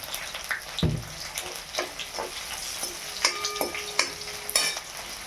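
Soaked murmura poha with peanuts cooking in a pan, with repeated spatula scrapes and stirring knocks over a light sizzle. A few sharp metallic clinks ring out toward the end.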